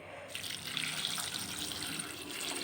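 Water suddenly starts pouring in a steady, splashing stream over picked leaves being washed, like a tap running into a basin, continuing without pause.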